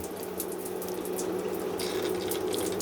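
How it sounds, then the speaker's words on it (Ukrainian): Water gushes steadily from a tap fed by a simple dacha hot water system, a loud continuous rushing stream heard up close with no talk over it. "Знову вмикаємо. Все, вода пішла."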